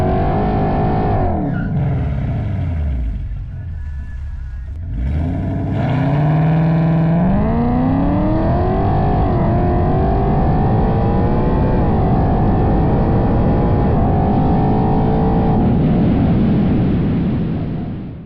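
A car with an aftermarket muffler exhaust idles, dips, then revs up with a deep raspy exhaust note, holding a loud rising drone for many seconds before cutting off.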